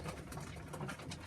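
Sheffield Tippler and Pilot pigeons, blues and reds, coo softly in a loft after being brought down and in, a brief, faint murmur of low throaty calls.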